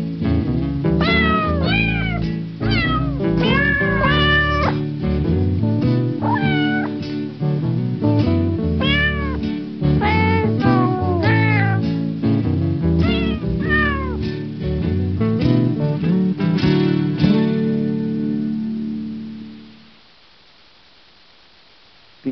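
Many cats meow in quick, overlapping succession, loud and close over a steady low background, then fall to near silence for the last two seconds.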